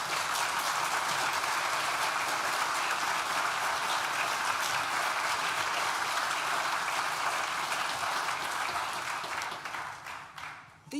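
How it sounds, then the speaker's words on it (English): Graduation ceremony audience at Nottingham Business School breaking into sustained, dense applause from a large crowd, steady throughout before tapering off at the end. "Please join me in thanking them with a well-deserved round of applause."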